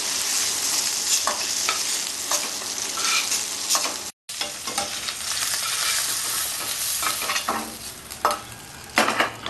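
Fish and potatoes fry in oil with a close, continuous sizzle. Scraping stirs recur throughout, and there is a brief gap near the middle.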